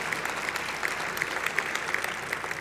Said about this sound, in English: Another round of applause, please, for ACE Recycling and Disposal